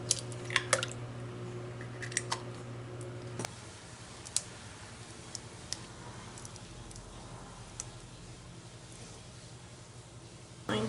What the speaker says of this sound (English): I'm just going to crack them in your bowl.